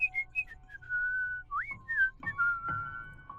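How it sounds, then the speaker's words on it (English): Someone whistles a wavering tune in a school hallway, the clear notes sliding up and down with short pauses between phrases, heard alone at moderate volume. "I started to hear a whistling sound that was coming from the other side of the hallway"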